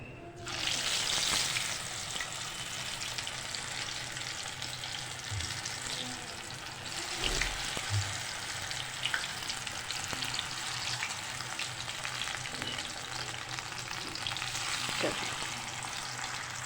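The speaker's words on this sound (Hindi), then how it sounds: "इसी तरह बाकी फ़िश जो है हम वो भी फ्राई कर लेंगे।" Fish pieces fry in hot oil for a Lahori masala fish fry, a dense continuous sizzle with occasional clinks and stirring, fairly soft and close, no voices.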